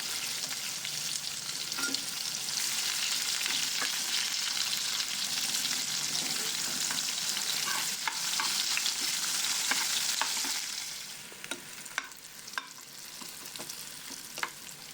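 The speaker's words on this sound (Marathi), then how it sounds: "कांदा चांगला परतून घ्या." Onion sautéing in oil for Vidarbha-style khichdi, a steady broad sizzle with occasional stirring scrapes, then dying down in the last seconds to scattered clicks and taps.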